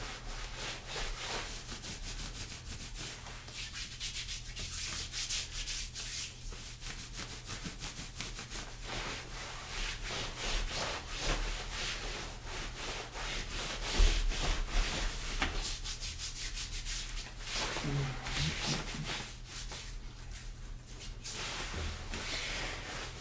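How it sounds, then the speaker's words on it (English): Hands rubbing over skin in a steady massage motion as part of a warm-up, a soft continuous friction with repeated strokes heard close up and with no talking. "So start with a rubbing motion."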